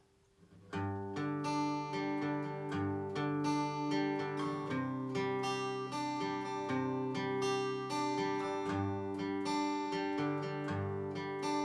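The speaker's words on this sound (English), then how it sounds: "is an arpeggio or a picking pattern." A guitar picks out notes one at a time in a steady, repeating arpeggio pattern, ringing clearly and continuously with no voices.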